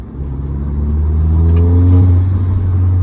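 An Audi S3 8V fitted with a Forge intake revs inside the cabin, a loud, close engine drone rising smoothly in pitch over about three seconds with no talk.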